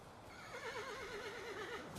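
A horse in the video game Valheim gives a wavering, quavering whinny lasting over a second, fairly soft and heard alone over a low background hum.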